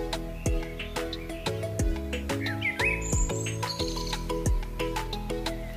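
Small birds chirping and tweeting in a tree-filled park, scattered short calls over a layered background with repeated sharp tonal notes, moderately near.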